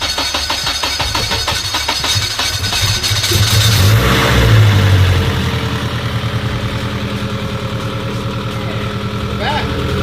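A Honda K-series car engine, fitted in a race-car style build, fires up and runs loud and close. It swells to a surge of revving partway through, then settles back into a steady rough drone.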